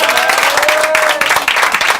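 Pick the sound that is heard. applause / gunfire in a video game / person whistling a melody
applause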